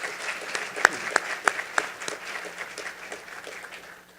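An audience at an emergency preparedness summit claps together in a steady round of applause, with a few louder sharp claps standing out near the front, fading gradually over several seconds.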